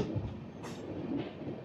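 Passenger special train on a diverted route from Chennai Egmore to Visakhapatnam, rolling on rails with a continuous close rumble, rhythmic clatter and brief hissy bursts, no talking.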